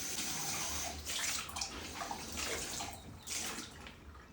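Water runs steadily while a salt-scrubbed cup is rinsed, with the splashing rising and falling as the cup moves under the stream. The sound is close and fairly quiet.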